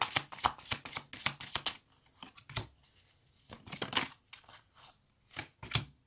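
Tarot cards being shuffled and drawn from a deck, with quick bursts of riffling and soft slaps in an irregular rhythm, close and fairly quiet, pausing briefly between handfuls.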